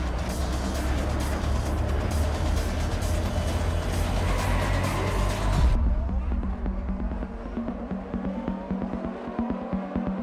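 Champ Car race cars at the green-flag start before a crowd of nearly 200,000, a loud dense roar of engines that drops into a thinner, buzzing drone midway, with commentary voices mixed in.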